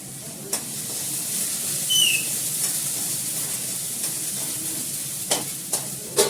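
Cinnamon and cloves frying in hot oil, a steady soft sizzle with a few sharp spattering pops and crackles scattered through, close and fairly quiet.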